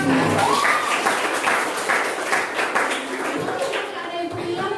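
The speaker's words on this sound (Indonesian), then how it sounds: "Pakai tepuk tangan" Children in a classroom clapping hands during a game, a series of quick claps from a group mixed with lively young voices chattering and calling out, fairly close.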